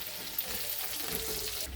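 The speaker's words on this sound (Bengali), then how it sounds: "পেঁয়াজটা একটু লাল করে ভাজতে হবে।" Onions sizzling in hot oil with red chilli powder for chicken do pyaza, a soft, steady frying hiss heard close but fairly quiet throughout the short stretch.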